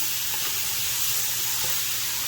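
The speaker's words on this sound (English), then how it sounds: "you still want to keep hearing that sound, that frying thing" Cabbage frying in a pan with no added liquid, a steady close sizzle with soft crackle running unbroken throughout, no talking.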